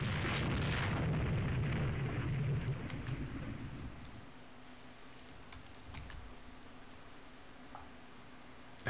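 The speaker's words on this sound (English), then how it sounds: "let's go ahead and open up with the guns." Naval guns fire in the warship strategy game Rule the Waves 2, opening with a heavy, loud booming salvo that fades into a low rumble and then faint, scattered distant reports.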